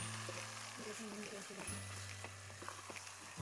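Biryani ingredients cook in hot oil in a pan over a low flame, giving a faint, steady sizzle with occasional soft clicks over a low, constant hum.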